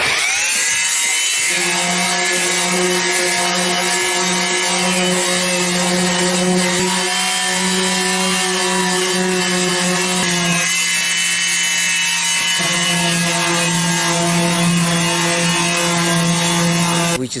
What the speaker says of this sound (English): We just finished wet sanding the whole boat